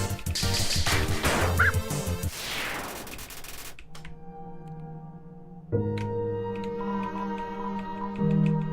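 Lesser Dog encounter in the Undertale video game: chiptune-style game sound effects and short yappy electronic barks, then sustained tonal music, fairly loud with no talk.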